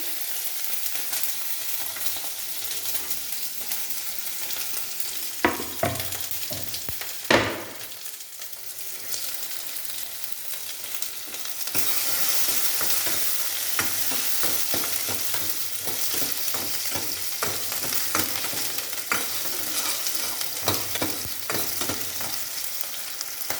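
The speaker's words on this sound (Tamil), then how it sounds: "நல்லா பொரிய ஆரம்பிச்சிருச்சு. சவுண்டு நல்லா படப்படன்னு கேட்குது." Cumin tempering in hot oil pops and crackles in scattered bursts, then small onions go into the pan and a louder, continuous sizzle takes over, broken by regular stirring scrapes and clicks.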